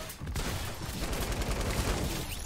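Pump shotgun fire in a video game comes as a dense, loud burst of overlapping booming shots and battle noise with no break.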